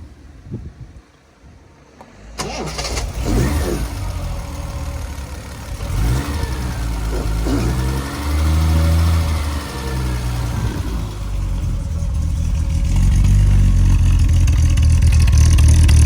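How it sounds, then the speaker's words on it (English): Triumph 2500 PI six-cylinder engine cranking and catching, then a few loud revs before settling into a close, steady idle. "can't beat the sound of a 6-cylinder trummy. It's just a gorgeous noise"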